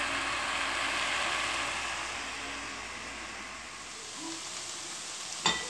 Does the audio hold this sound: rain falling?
no